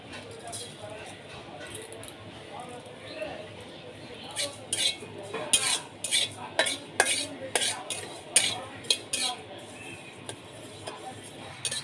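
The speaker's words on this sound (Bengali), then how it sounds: "আমি শুকনো খোলায় জিরা আর মৌরিটা হালকা করে ভেজে নিয়েছি" Cumin and fennel seeds dry-roast in a kadai with no oil. A spatula clinks and scrapes against the metal in a quickening, rhythmic run of sharp taps up close.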